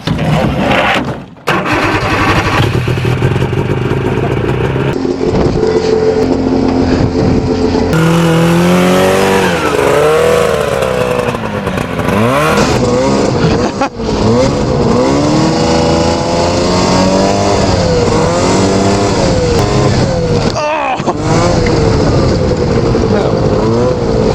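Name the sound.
vintage twin-track Raider snowmobile engine during test ride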